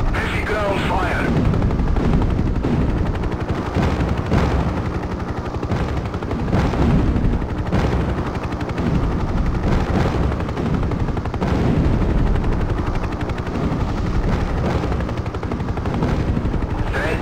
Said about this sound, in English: Heavy ground fire.